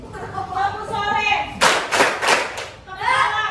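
Children clap hands in rhythm during a classroom clapping game, a burst of several sharp, close claps following the chant, with children's voices speaking and chanting before and after.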